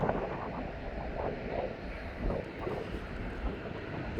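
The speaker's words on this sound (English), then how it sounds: "Here comes this 777 from Dubai" A Boeing 777 arriving from Dubai approaches East Midlands Airport, a faint, distant jet roar mixed with wind rumble against the microphone.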